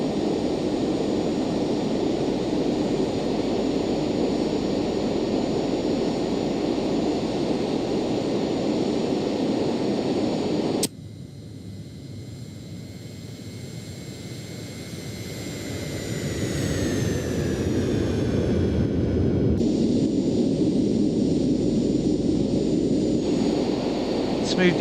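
Twin engines of a Citation Jet 525 in a flight simulator game drone steadily on departure, the whine shifting abruptly partway through and then settling into a smooth, even hum.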